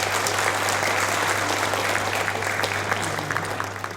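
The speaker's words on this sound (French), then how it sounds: "Sous vos applaudissements, s'il vous plaît." A loud, close round of applause greets Miss Earth 2019 candidates at a pageant in a Réunion hotel, steady and full throughout under a constant low electrical hum, with a few faint voices mixed in.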